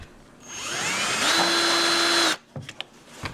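A power drill whines at steady speed for about two seconds, drilling a hole in plastic on a toy train, close and loud, then stops, followed by a few light clicks and knocks.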